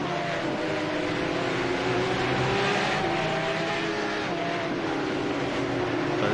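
Porsche race cars lap Imola during a qualifying round, a continuous droning engine roar with shifting pitch as cars accelerate and pass, sustained throughout without talk.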